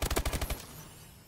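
Rapid automatic gunfire from the video game Call of Duty: Advanced Warfare, a quick burst of about seven loud shots that cuts off and leaves a fading tail.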